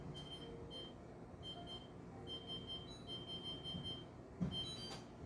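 A kitchen timer beeps in short, high, evenly spaced bursts as it is set, faint and close over a quiet room hum, with a soft knock near the end.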